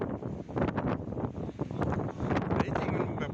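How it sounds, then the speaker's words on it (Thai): Wind gusts through a night storm on a mountain, buffeting the microphone in loud, rough, continuous waves with rustling bursts and no clear speech. "มาพร้อมลมมาพร้อมฝน"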